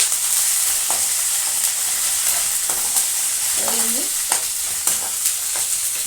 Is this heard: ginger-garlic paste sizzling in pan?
yes